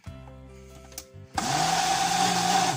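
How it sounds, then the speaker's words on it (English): A blender churns a heavy DIY scrub of sugar and oils, first with a lower strained hum, then jumping to a loud, steady high whir that holds to the end. "got that blended as well as it's going to get in this"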